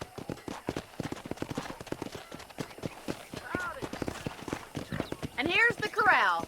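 A horse's hooves clip-clop in a steady, fairly close rhythm in the Red Dead Redemption video game, with a brief whinny toward the end and someone talking over the hoofbeats.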